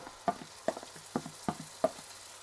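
Golden garlic frying in a pan with tomato added makes a soft, steady sizzle, with about five sharp stirring taps or scrapes spaced evenly over it.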